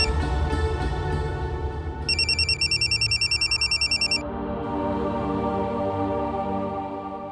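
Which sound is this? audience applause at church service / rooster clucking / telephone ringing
telephone ringing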